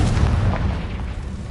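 A Confringo blasting spell explodes in the video game Hogwarts Legacy as a deep, rumbling boom that rolls on for over a second, loud and unbroken, with no voices.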